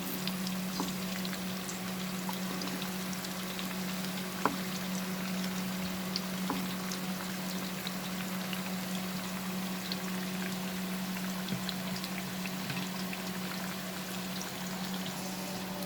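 Potato wedges fry in a pan with a steady, even hiss of oil and faint crackles. A few soft pops and light clicks sit over it, and no one speaks.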